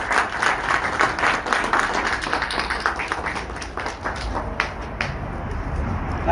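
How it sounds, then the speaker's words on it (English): An audience at a community meeting with sheriff's station officials claps after a captain is introduced, brisk individual claps heard fairly close and separately, thinning toward the end. "Please give him a round of applause."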